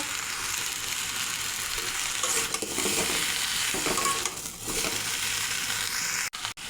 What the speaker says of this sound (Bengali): একটু মশলার সঙ্গে সবজিটা মিশিয়ে নেব। লবণ দিয়ে দেব।